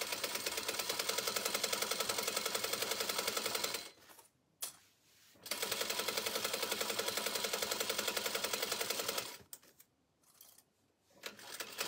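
A sewing machine stitches a drawstring backpack seam in rapid, steady mechanical bursts, running loud and close, pausing briefly twice before starting up again.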